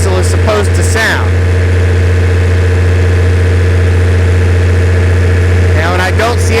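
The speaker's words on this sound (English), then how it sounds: "It sounds like a 6-cylinder diesel is supposed to sound." A Perkins six-cylinder diesel generator engine idles smoothly after a new injection pump was installed, a loud steady low drone with a constant hum throughout, with brief voices near the start and end.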